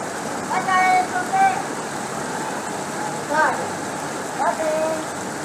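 Heavy monsoon rain pours down during a flood at a house, a dense continuous hiss with a few short, faint tones over it while people talk throughout.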